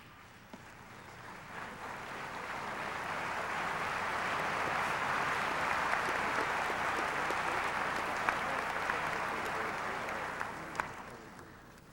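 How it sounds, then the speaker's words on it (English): A large audience applauds at a Purdue University summer commencement ceremony as graduates' names are called, the steady clapping swelling gradually, holding full and even for several seconds, then easing slightly, heard from a distance across a big hall. "We invite you to applaud as soon as the name is called."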